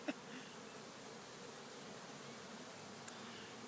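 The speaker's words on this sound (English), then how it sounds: "We got bees hanging out right here." Honeybees drone around an open beehive during an inspection, a soft, steady buzzing hum throughout with a couple of faint clicks, fairly quiet and with no talking.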